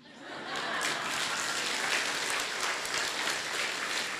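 Steady, dense hand clapping that builds in over the first half second, then holds as a continuous patter at moderate level, with no clear voice over it.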